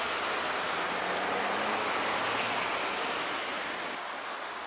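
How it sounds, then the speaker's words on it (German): Flooded river Blies in Neunkirchen, a steady broadband rush of high water, continuous and fairly near, with no voices. "das hier ist die Bliese Neunkirchen, da ist auch, wie man sieht, jede Menge Wasser drin"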